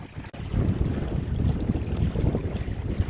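Sailboat moving under sail at about five knots, with a steady broadband rush of wind and water close by, one sharp thump early on, and no voices.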